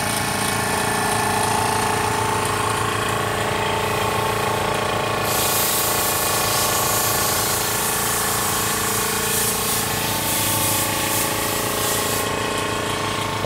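An engine-driven pump runs steadily in a scrap yard in Maine, a loud continuous mechanical drone with a hissing, spraying texture that shifts slightly partway through and carries on without any voices.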